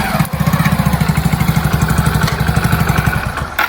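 A motorbike engine running nearby, loud and throbbing with a steady rapid pulse, briefly interrupted by a thump near the start and ending with a clatter.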